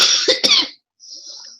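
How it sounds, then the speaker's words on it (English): A person gives two or three harsh coughs close to the microphone, then a short silence and a faint breathy trailing sound. "I'm still coughing"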